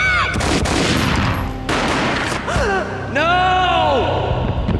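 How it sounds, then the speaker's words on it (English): Gunshots ring out in the video game Max Payne, a sharp loud crack near the start followed by echoing reports, mixed with a voice and other game sounds. "A gunshot boomed"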